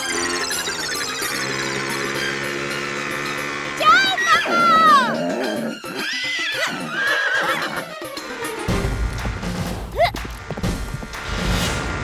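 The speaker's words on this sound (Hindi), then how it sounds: "घोड़ा तो आगे निकल गया।" A horse whinnies loudly in rising and falling neighs, accompanied by clip-clop hooves and thuds, amid a busy comedy scene in a Hindi sitcom with a horse ride.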